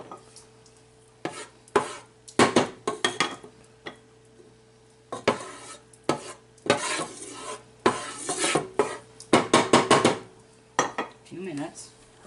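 A wooden spoon stirs tomato sauce in a pot, giving repeated scraping, clattering strokes in irregular bursts against a quiet kitchen background, with a low steady hum underneath.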